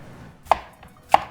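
A knife slices a flat side off a sweet potato: two sharp, close chops land on the board about half a second apart, with nothing else around them.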